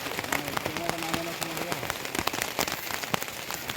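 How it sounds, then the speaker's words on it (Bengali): Heavy rain pours steadily across a surface, a dense hiss with scattered louder drops and splashes, while a voice talks briefly underneath. "প্রচন্ড বৃষ্টি হচ্ছে প্রচন্ড"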